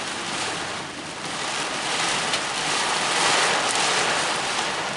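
Storm wind and heavy rain from a supercell in Apple Creek, a continuous broadband roar of gusts and driving rain that swells and eases slightly, loud and close with no talk over it.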